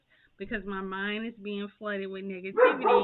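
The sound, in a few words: dog barking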